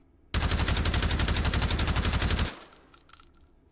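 Galil AR rifle fitted with a muzzle brake firing full-auto in H3VR, a single loud, close, rapid burst of about two seconds, then clattering echoes and mechanical handling noises.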